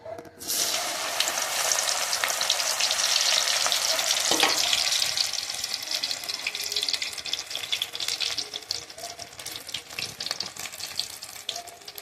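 Cauliflower pieces dropped into hot oil, a loud burst of dense crackling sizzle that starts abruptly and keeps frying steadily, easing slightly over time, close and alone.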